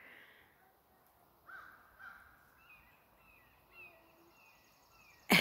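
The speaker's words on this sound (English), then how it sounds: "You're gonna hear birds for sure." Birds call in woods near a road: a few scattered, faint caws and chirps spaced apart over a quiet background.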